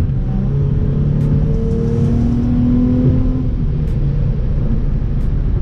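An Infiniti G35 coupe accelerates hard, its engine rising in a steady, loud drone with revs climbing and then easing, heard from inside the car with no talking.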